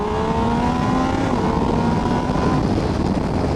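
Middleweight sport touring motorcycle accelerating hard, its engine note climbing steadily through the revs with loud, continuous rushing wind noise throughout.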